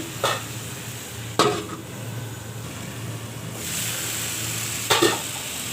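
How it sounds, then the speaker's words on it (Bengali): Curry spices frying in a pan, a steady low sizzle with a few sharp bursts of stirring scraping against the pan, then a louder hiss near the end; no one speaks. "এখনো ভালো করে কষানো হয়নি, একদম ভাজা ভাজা করে নিই।"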